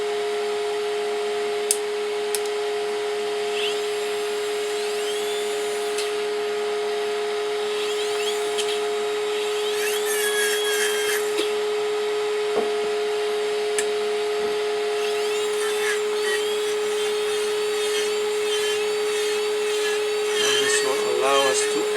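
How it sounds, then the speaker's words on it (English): A handheld dental lab motor with an angled burr trims a dental model, giving a steady high whine with intermittent scraping and grinding as the burr contacts the stone, close and continuous, with a voice speaking at points. "So I like to use this angled burr here."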